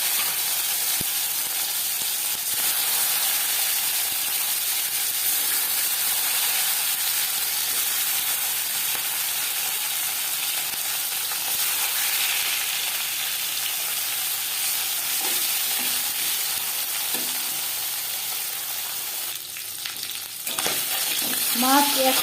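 Marinated shing fish frying in a few spoons of hot refined oil: a steady, loud sizzle and hiss runs throughout, with a few brief clatters near the end.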